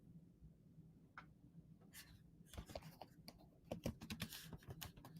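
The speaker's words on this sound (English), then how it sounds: "I'm typing" Rapid, irregular clacking of keys on a computer keyboard, close by, with a low steady hum underneath and the pace quickening toward the end.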